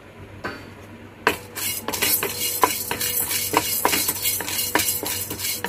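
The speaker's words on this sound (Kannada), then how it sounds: "ಕಡಲೆಬೇಳೆ ಹುರಿತಾ ಇದ್ದೀನಿ" Chana dal roasting in a pan on a gas stove, heard as steady rattling and scraping with sharp clinks of a utensil stirring the dry lentils, close and fairly loud throughout.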